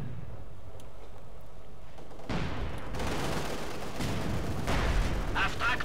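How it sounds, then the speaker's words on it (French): Artillery fire in Company of Heroes 2 on the Crimean front of Operation Barbarossa: after a quieter stretch, a heavy boom hits, followed by repeated rumbling blasts and crackling shots that roll on under the battle din, with voices talking at times. "Frappez-les avec l'artillerie."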